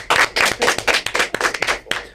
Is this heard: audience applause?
yes